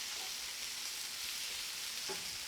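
Onions and a clove or two of garlic sauté in hot oil, giving a steady, close sizzling hiss with a faint stir sound near the end and no talking.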